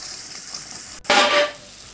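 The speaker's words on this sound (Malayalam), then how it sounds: "2 ടീസ്പൂൺ വെള്ളം ഒഴിച്ച് നന്നായിട്ടൊന്ന് പാനിയാക്കി എടുക്കുക." Two teaspoons of water hit melting sugar in a hot pan, bursting into a sudden loud sizzling hiss after a quiet moment, then fading within about half a second as the syrup forms for rose apple juice.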